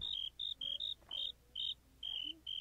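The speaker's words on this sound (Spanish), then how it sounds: "Grillos en Minecraft." Crickets chirp in a Minecraft game at night, a quiet, regular series of short high pulses repeating steadily and evenly, alone without speech.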